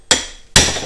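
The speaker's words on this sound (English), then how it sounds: "we're gonna take a hammer and we're simply just gonna smack it." Two sharp metallic hammer strikes on a Brembo brake caliper on a Cadillac ATS, about half a second apart, each ringing briefly before fading; close and loud.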